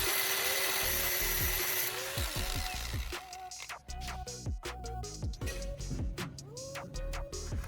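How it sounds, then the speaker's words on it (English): A cutting tool grinds through the hex base of a long bolt, a steady high-pitched whine at first, then a run of sharp scraping strokes and clicks as the cut goes on, close and loud. "I use a cutting tool to remove the hex base"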